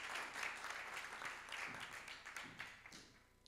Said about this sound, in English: a big applause to José and his initiative.